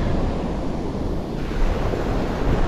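Cold wind gusts steadily beside crashing ocean surf on a Southern California beach ahead of an incoming storm front, a dense continuous roar of wind buffeting the microphone over the waves, loud and unbroken throughout.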